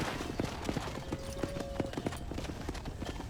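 Horse hooves clip-clop steadily at a walking pace in the Western video game Red Dead Redemption, close and rhythmic over a faint open-air ambience.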